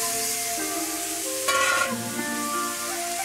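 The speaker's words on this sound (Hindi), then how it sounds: "इनको हम बहुत अच्छे से अभी भून लेंगे" Chopped ripe mango fries with spices in a pan, a steady sizzle with a stirring scrape partway through.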